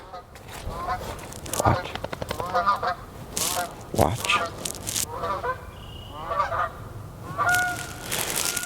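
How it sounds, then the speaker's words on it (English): Geese honk repeatedly near and in the open, with wood ducks also returning to the area; someone speaks briefly over the calls. "We got the geese are starting to show back up."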